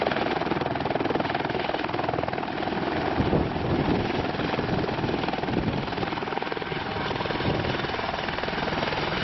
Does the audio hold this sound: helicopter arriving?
yes